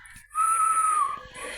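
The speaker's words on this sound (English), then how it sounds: "The guard blew the whistle" A railway guard's whistle gives one sustained, shrill blast of about a second, clear and fairly close, then trails off over quiet background.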